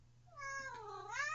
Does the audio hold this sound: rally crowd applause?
no